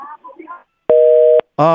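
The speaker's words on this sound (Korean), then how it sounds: "지금 전화 연결이 갑자기 끊어졌는데요" A telephone busy signal after a disconnected radio call: a steady electronic tone pulses loudly on and off, following brief talk at the start.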